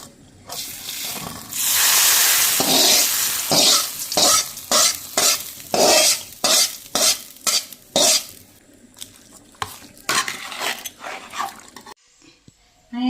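Fried mustard seed and curry leaf tempering is stirred into a masala, loud sizzling broken by repeated rhythmic scraping strokes of a spoon in the pan, ending in a brief quiet.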